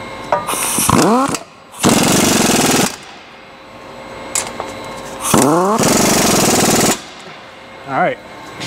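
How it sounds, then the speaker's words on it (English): Impact wrench tightening the front wheel nuts on a new Ford 4x4 truck, two long close, loud rattling bursts separated by pauses, with someone talking in between. "I'm gonna tighten these front nuts first"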